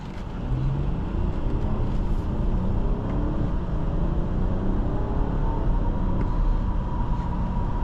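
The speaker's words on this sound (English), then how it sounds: "You can see how quick the car picks up speed. Like it's very effortless." A 2023 BMW 540i M Sport pulls away from a stop, its engine and road noise rising into a steady, continuous drone heard from inside the cabin, with no talking.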